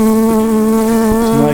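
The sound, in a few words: honey bees buzzing during hive inspection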